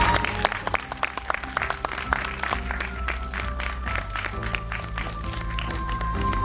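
An audience at the opening ceremony of an international 3D festival claps steadily for several seconds, a continuous crackle of many hands with faint background hum.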